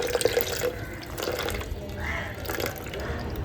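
Plain water splashes and trickles into a jar of homemade plant tonic, a steady close liquid pour with faint drips, mostly alone with little talk.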